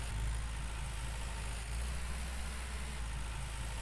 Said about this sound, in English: I don't mind the sound of this tractor